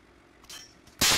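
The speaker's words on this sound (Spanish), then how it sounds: "Vienen los tiros en la otra colina." Gunfire from a distant hill in the Arma 3 video game comes as two short sharp cracks, the second louder and fuller, heard in quick succession during a military operation.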